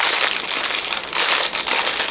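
Silver plastic packaging being crinkled and crushed while someone struggles to open it, close and loud, with a continuous dense crackling.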